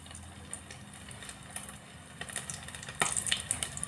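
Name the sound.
shrimp frying in hot oil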